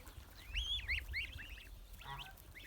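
Twenty-day-old goslings in their coop give repeated soft, high peeping and honking calls in short bursts, fairly close and moderately quiet, with no talking.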